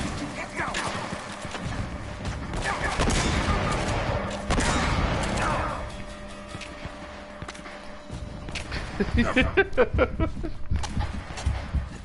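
An explosion and bursts of gunfire in the Uncharted video game, continuous loud combat noise with rapid shots and a heavy blast, along with scattered impacts and a voice speaking over the action.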